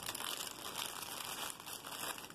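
Packaging for costume jewelry crinkles steadily as it is folded over several times, a continuous close crackle of plastic or paper with no pauses and no voices.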